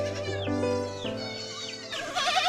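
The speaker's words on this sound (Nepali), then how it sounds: "यो घरमा चाहिँ बाख्रा आम्मा यति धेरै रहेछ कि बाख्रा" Several goats at a hillside farmhouse in Tanahu, Nepal, bleating in overlapping wavering calls, close and loud, one cry following another with no talk.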